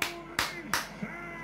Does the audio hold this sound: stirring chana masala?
no